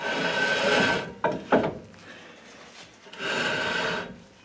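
Rear drum brake on a Ford F150 drags as the wheel is turned by hand, giving rasping, scraping rubs in two longer passes broken by a few short clicks, close and alone.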